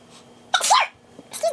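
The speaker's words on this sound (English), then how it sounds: "I have to sneeze." A person sneezes twice in quick succession: a loud, sharp burst followed moments later by a shorter second one, close up, with near silence between.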